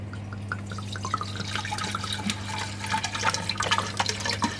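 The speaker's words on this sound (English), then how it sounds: "all that remains is to pour that into the container" Liquid poured into a dosing container on a Red Sea Reefer 170 reef aquarium, a steady close trickle and splash over a constant low electrical hum.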